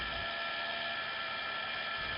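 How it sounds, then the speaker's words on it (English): A drill fitted with a Bosch carbide-tipped stop bit bores an anchor hole to a set depth, giving a steady, unbroken high whine that holds at constant loudness for the whole stretch. "First, take your carbide tip, stop bit, drill to that precision depth"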